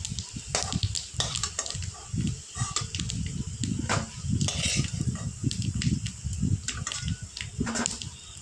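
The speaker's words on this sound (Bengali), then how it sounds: "দেখো মাছের দিয়ে বড়াগুলো প্রায় ভাজা হয়ে এসছে।" Fish roe fritters frying in hot oil, a steady dense sizzle with crackling bursts throughout, fairly close and continuous with no talk.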